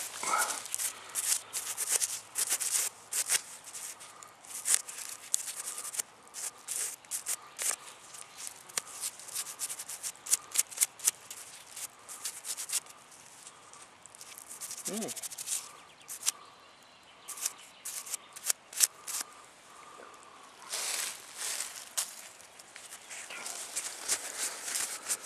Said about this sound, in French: On va demander à Fredo qu'il sorte sa petite brosse à dents, pour qu'on puisse voir ce que c'est